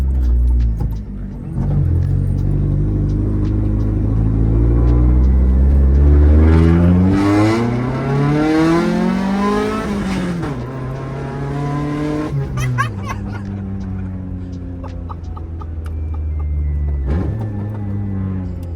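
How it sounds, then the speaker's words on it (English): Cheap project Honda car engine revving roughly up and down in repeated pulls, loud and close with a raspy, uneven tone, with brief speech sounds near the end. "this is the worst sounding Honda I think I've ever heard"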